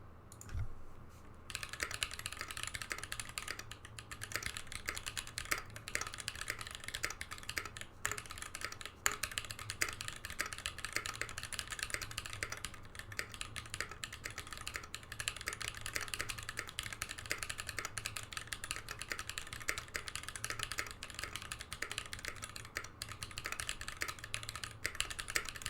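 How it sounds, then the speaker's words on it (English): Steady typing on an Iron165 FE mechanical keyboard, a dense, even stream of keystroke clicks running continuously at moderate level with a low background hum, no talking. "I'll do a quick typing test."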